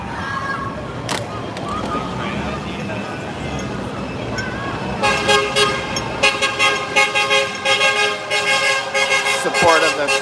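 Cars pass on a busy street in Mongkok, Hong Kong, with steady traffic rumble and crowd babble, joined midway by loud repeated horn toots that sound close and insistent.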